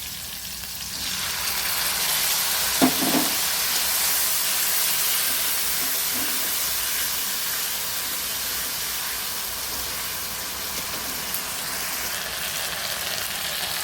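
Spice paste going into a pan of fried potatoes for a potato and snakehead fish curry, a steady broad sizzle and hiss throughout with a couple of brief clatters early on, no voices.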